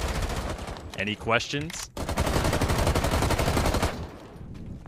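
Rapid automatic gunfire rattles in Rainbow 6 Siege, loud sustained bursts of fire after a short spoken question, the shots continuing densely for several seconds before fading out.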